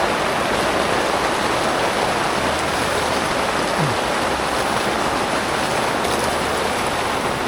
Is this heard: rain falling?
yes